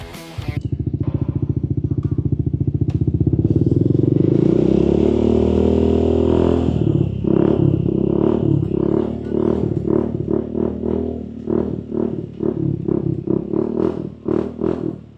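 A modified Honda Forza 350 scooter engine runs close and loud, holding a steady drone before a series of sharp, repeated revs, with no talking.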